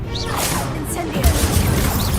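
A fiery Incendio spell cast in Hogwarts Legacy gives a loud, dense whooshing burst with crackling roar that fills the short moment, with a heavier thump partway through.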